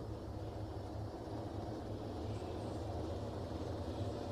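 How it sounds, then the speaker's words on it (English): Helicopter rotors on an Arma Ghost Hawk spin up steadily in the video game, a continuous low whirring drone with a rhythmic pulse that holds at an even, moderate loudness throughout with no other sounds. "It takes a couple of seconds for the helicopter to reach operating speed."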